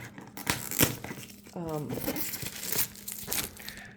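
Cellophane wrap being peeled off a diamond painting kit crinkles and tears in loose bursts close by, with a brief vocal sound partway through.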